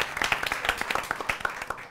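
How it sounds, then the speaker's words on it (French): Students clap for one another before a school quiz contest, a lively run of distinct hand claps at close range, fairly loud and uneven in rhythm. "Mais là, on va s'applaudir."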